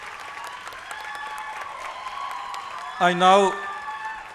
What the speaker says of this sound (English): All of you may please applaud for the degree recipients of Bachelor of Architecture degrees.